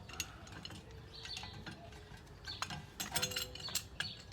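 Brake piston tool being tightened on a 2006 Lexus GS300 during front brake pad replacement, giving quiet metallic clicks, ratcheting and clinking scattered over several seconds and growing busier toward the end, with no talk.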